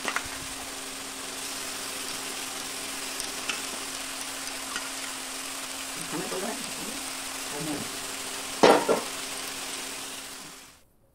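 Fresh spinach fries in a hot pan with a steady, close sizzle, broken by a few scraping stirs and one sharper clatter near the end before the sound cuts off.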